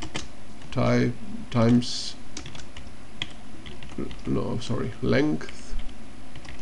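Perl code being typed on a computer keyboard in short bursts of close key clicks, with someone talking between and over the keystrokes.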